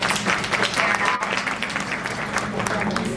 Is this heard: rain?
no